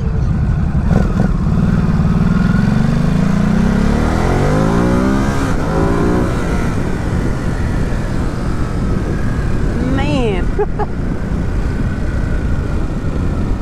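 A 2020 Ducati SuperSport motorcycle engine pulls hard under acceleration, its revs climbing and dropping through several gear-shift sweeps over a constant loud wind roar, with a sharp rev rise and fall near the end.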